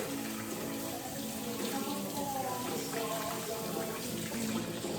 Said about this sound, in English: make sure you wash all your food, even if it's organic